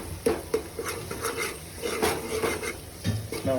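Garlic being stirred in a pan on low heat for a Telugu fish curry, with repeated scraping and clinking of a spoon against the pan over a soft sizzle, close and steady.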